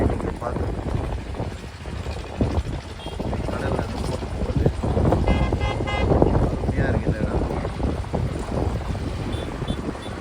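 A passenger ferry boat engine drones steadily at sea off Rameswaram, India, under wind buffeting the microphone, with a brief horn-like toot partway through.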